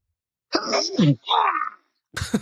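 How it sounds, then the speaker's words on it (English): A sneeze on a voicemail recording: a short, loud, close burst preceded by a breathy vocal lead-in and followed by a trailing sound, then another brief vocal noise. "checking in with a sneeze in the voicemail"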